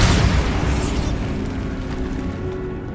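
The Bombarda blasting spell cast in the game Hogwarts Legacy, a heavy booming explosion that starts at full force and rolls into a long, dense rumbling decay, loud and close, with no speech.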